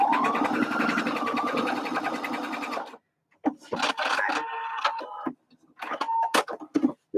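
A sewing machine runs steadily for about three seconds while top stitching the fabric of a bucket hat, then gives a few short, halting bursts of stitching between pauses.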